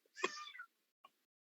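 One kitten gives a single clear, fairly close meow, followed a moment later by a brief faint chirp, against silence.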